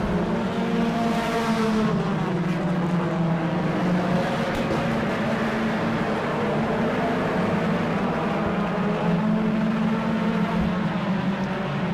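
Race cars roar steadily down the front stretch of an oval track at the Auburndale season opener, a dense, loud engine drone with overlapping cars sustained throughout and no talk.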